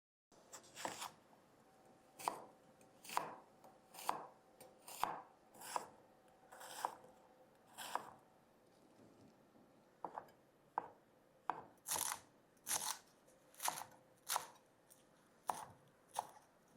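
A knife chops young radish, onion, potato and shiitake mushroom on a cutting board in a quiet kitchen, sharp crisp cuts in an uneven steady rhythm, close and clear with no talking.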